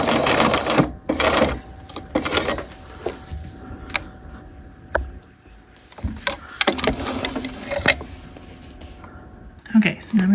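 A sewing machine runs in short bursts of stitching around jacket canvas at longer stitch length, with pauses between runs and quiet handling noises in a workroom.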